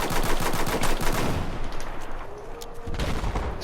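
Rapid pistol shots in Battlefield V, a quick rhythmic volley of sharp cracks up close for over a second, then quieter scattered shots and distant battle noise.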